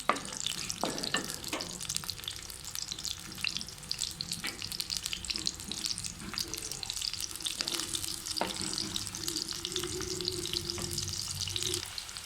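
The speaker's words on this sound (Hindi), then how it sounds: "ये हमारे प्याज जो है ये फ्राई हो रहे हैं।" Steady sizzling of onions frying in a pan, a continuous crackle with occasional stirring and clinks, moderately loud and close, no talking.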